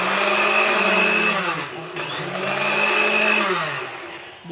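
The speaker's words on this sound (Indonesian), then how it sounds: "dia lagi ngeblender" An electric blender chopping onions, a loud steady whirring motor with a brief dip in pitch midway, running alone close to the mic.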